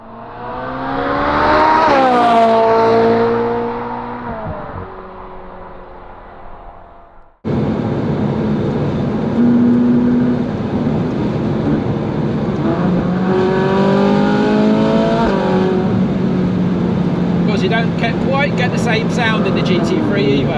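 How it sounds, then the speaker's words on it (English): A Porsche GT3 engine revs up loudly and falls away, then after a cut drones on at speed with repeated rising pitch sweeps through the gears, loud and close, and people talk over part of it. "but the GT3 does sound bloody awesome"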